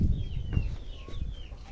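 Chickens clucking outdoors on a farm during egg collecting, faint and scattered beneath steady low rumble and wind-like background noise, with a few thin high bird calls drifting over it.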